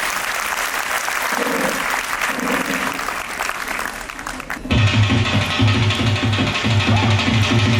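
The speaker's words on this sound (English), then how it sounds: "give a big round of applause for our energetic bhangra dancers" A school annual-function audience applauds energetic bhangra dancers with sustained, loud clapping; partway through, a thumping beat with music kicks in abruptly over the applause.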